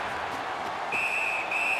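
A referee's whistle in the NHL 19 hockey video game gives a shrill, sustained blast that briefly breaks and resumes, over the constant roar of the arena crowd.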